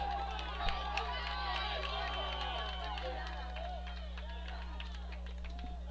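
Spectators at a boys high school soccer game, a steady murmur of crowd babble with scattered shouts and cheers heard from a distance over a constant low hum, with voices mixed throughout.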